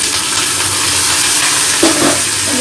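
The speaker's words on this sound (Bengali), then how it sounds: "এদিকে করলা ভাজাটা চাপাবো" Bitter gourd frying in a home kitchen pan, a loud, close, continuous sizzle with a brief stirring clatter near the end.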